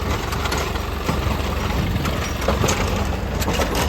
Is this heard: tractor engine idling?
yes